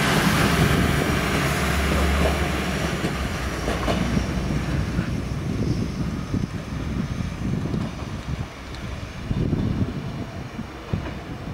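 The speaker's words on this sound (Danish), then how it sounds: "Og Nordjysk Jernbaners tog af de nye lind nummer 2." A new Lint passenger train of Nordjyske Jernbaner runs past, its loud rumbling roll and wheel noise strongest at the start, then easing off, with rattling and clatter throughout.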